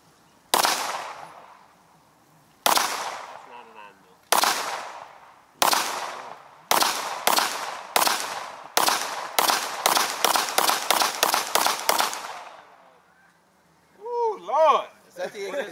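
Desert Eagle pistol shots ring out outdoors, a few spaced sharp cracks with echoing tails, then a quickening run of rapid shots before voices break in at the end.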